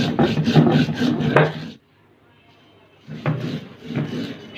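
Mustard seeds and chili crushed together on a traditional grinding stone, giving loud rough rubbing strokes close by, with a short pause before the grinding resumes.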